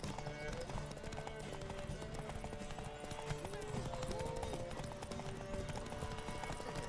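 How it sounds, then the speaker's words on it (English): A horse gallops in The Witcher 3: Wild Hunt during a race, its hooves beating a fast, steady clip-clop under game music while someone talks. "considering the horse I'm riding and the equipment I have on said horse"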